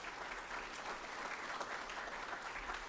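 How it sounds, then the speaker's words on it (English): Audience applause for mentors at the NEMC 2025 opening ceremonies, a fairly faint but continuous patter of clapping from a crowd, steady throughout. "Give yourselves a round of applause."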